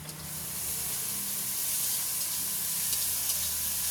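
Onions with salt fry in hot oil in a pan, giving off a steady, continuous sizzle with a faint low hum beneath.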